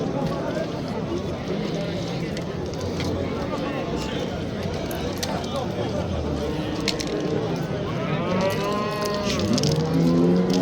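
Cattle, including a large pregnant cow, at the Sariosiyo Thursday livestock bazaar, mooing and lowing over a dense crowd of chatter and market bustle, with a louder nearby moo near the end.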